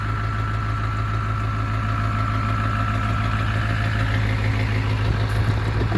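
A 4x4 dually truck's engine runs steadily at idle, a loud continuous low rumble with a faint knocking edge, close by and alone without talk throughout.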